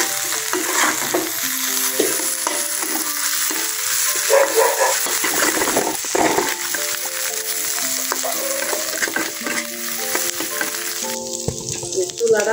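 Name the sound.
chapa shutki dried fish frying in a pan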